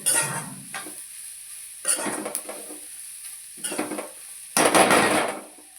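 Carrot fry being stirred with salt in a pan: several bursts of scraping and clinking spoon-on-pan stirring with a soft sizzle, separated by short pauses, close and clear with no talk.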